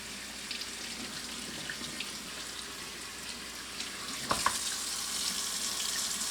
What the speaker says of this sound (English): going back and forth to cover the entire foam filter with water